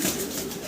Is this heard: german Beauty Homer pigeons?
yes